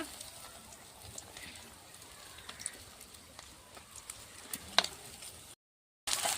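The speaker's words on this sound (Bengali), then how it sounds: "চিকেনগুলো আমি ভেজে নিচ্ছি" Chicken pieces fry in oil, making a faint, steady crackling sizzle with occasional sharper pops. Near the end the sound cuts out briefly, then returns.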